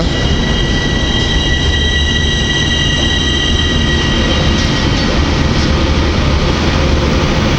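A Siemens Vectron locomotive hauls a PKP Intercity train into Warszawa Zachodnia station. A loud, constant rumble and roar of wheels and engine fills the scene, with thin high squeals running over it.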